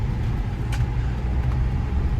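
A 1991 Saab 900 SPG driving after a clutch rebuild, a steady low engine and road rumble heard from nearby, even and continuous with no speech.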